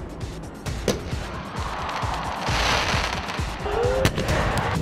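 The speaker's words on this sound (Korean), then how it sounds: "바로 옆에서 터지는 폭죽 때문에 귀에 통증을 호소했다" Fireworks explode right beside the mound at a baseball opening game, a rapid crackling barrage of close, loud bangs with crowd noise underneath.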